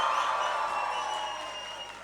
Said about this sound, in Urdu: once again شوردار تالیاں everybody.